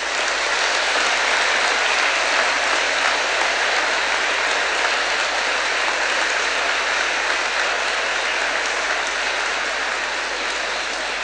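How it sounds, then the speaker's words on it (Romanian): A church congregation applauds during a Holy Liturgy, a loud, dense, continuous clapping that holds steady throughout without any talk. "toți împreună vrem să vă aplaudăm încurajându-vă în misiunea dumneavoastră."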